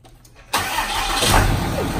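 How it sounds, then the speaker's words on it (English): A diesel engine cranks and catches after a quiet half-second, settling into a loud, steady, close-up idle. "start it up. Yeah. And this is a diesel engine"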